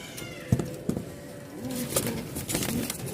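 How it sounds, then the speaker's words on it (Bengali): A pair of pigeons, a male and a female, coo softly at close range, with a few low murmured calls and light thumps over quiet background noise. "এই হচ্ছে কবুতর জোড়া"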